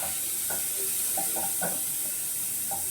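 Onion and tomato fry in a pan with a soft, steady sizzle, a few faint clinks and stirring sounds scattered over it, all fairly quiet and close.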